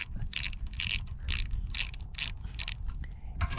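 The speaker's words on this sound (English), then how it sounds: "let me switch out this intake for the 5-inch intake" Parts being swapped on a Tillotson 212 engine, short bursts of ratcheting clicks repeating in quick rhythm, close and clear, with no talking.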